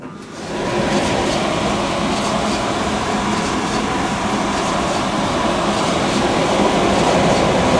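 A tumble dryer runs on a timed cotton high-heat cycle with a slight scraping, giving a loud, continuous rumbling drone that holds steady from start to finish.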